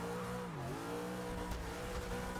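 Engine of a wheelie drag-build car in Forza Motorsport 6 droning steadily at high revs, its pitch dipping briefly then climbing again, loud and continuous with no voices.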